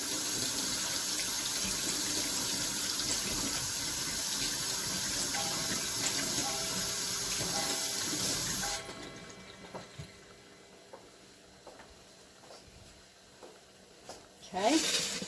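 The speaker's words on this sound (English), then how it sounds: "I'm going to wash my hands off real quick." A tap runs steadily into a sink for several seconds, then shuts off, leaving quiet handling noises and a brief clatter at the end.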